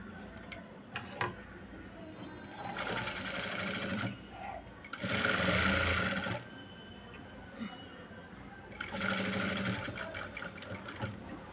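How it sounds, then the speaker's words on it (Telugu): A sewing machine stitches a hand-designed blouse in bursts of rapid whirring and ticking, several loud runs separated by quieter pauses, with no talking. "ఇప్పుడు నేను స్టిచ్ అయితే వేస్తున్నాను"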